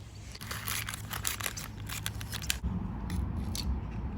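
Scissors snip repeatedly through paper packets of tulip bulbs, cutting off the variety labels, a quick series of crisp close cuts followed by a few rustling, crinkly snips.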